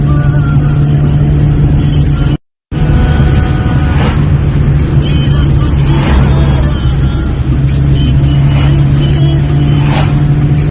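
Car driving on a national highway, a steady engine and road hum running loud and close throughout, with a brief dropout of silence early on.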